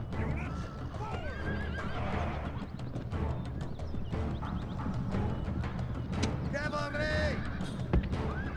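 Cavalry horses charging in a video game battle, with sharp whinnies and neighs over a dense bed of hoofbeats and battle noise, while a voice calls out orders.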